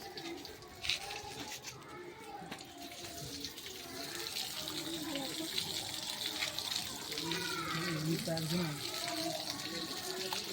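Water runs steadily from a tap with a constant hiss and splash, while several voices chatter nearby.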